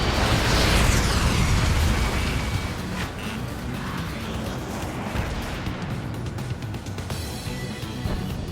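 Missile explosions in the flight combat game Ace Combat 7, a loud broadband blast at the start that settles into a sustained rumbling roar with scattered crackles, no talk over it.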